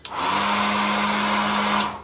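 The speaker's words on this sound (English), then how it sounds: "it's a decent hairdryer, you know, pretty good." A hotel room hairdryer with a single setting runs steadily at close range, a loud continuous whooshing blow with a motor hum, switching on at the start and cutting off near the end, with no talking.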